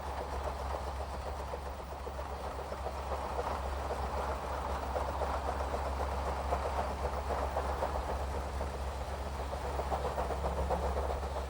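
Train on the Swiss Albula Line rattling along the tracks, a steady low rumble with continuous rolling clatter heard from on board at moderate level.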